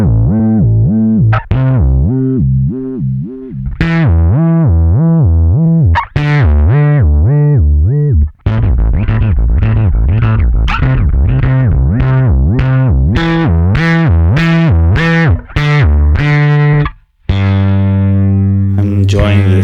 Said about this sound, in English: you get kind of a synth portamento kind of a sound if you do this